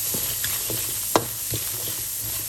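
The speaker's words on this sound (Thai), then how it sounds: "จากนั้นนำเครื่องเทศมาคั่วเลยค่ะ คั่วให้เขาเหลืองเลยค่ะ" Spices being dry-roasted in a pan, a soft continuous hiss with light taps and stirring scrapes, one sharper clack partway through, close by and without speech.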